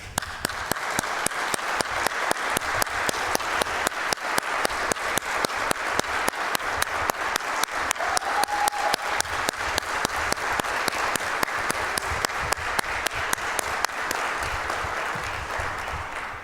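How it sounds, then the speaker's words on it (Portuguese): Sustained applause from an audience at a formal legislative session honoring physical education professionals, dense steady clapping with a few sharper hand claps standing out, continuing at an even level throughout. "para também receber uma salva de palmas"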